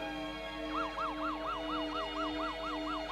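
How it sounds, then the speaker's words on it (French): An ambulance siren wails in rapid repeating up-and-down sweeps as it approaches, growing more prominent over a steady background hum. "vous voyez bien qu'il y a une ambulance qui arrive"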